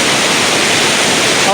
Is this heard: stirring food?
no